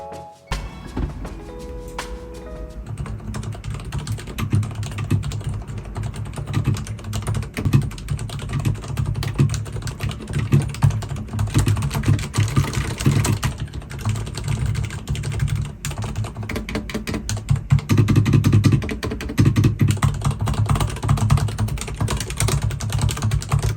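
Steady, fast typing on a Leopold FC750RPD tenkeyless keyboard with silent red switches, with soft, muted keystrokes in a dense continuous patter, close and alone.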